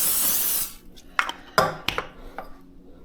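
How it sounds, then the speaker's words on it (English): Butter-flavor spray oil spritzed onto freshwater drum fillets, a short hissing spray followed by a few close clinks and knocks of kitchen pans. "I will actually bring this back out and spray that down too."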